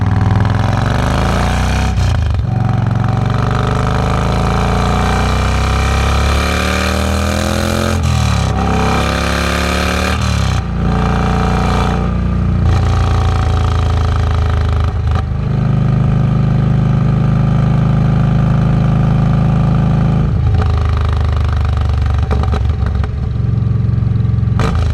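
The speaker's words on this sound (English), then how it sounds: "Cobra exhaust, fast on the highway." A 2013 Yamaha V Star 950 motorcycle fitted with a Cobra slip-on exhaust runs loud and close, its engine revving up and down in repeated throttle sweeps over a steady deep rumble.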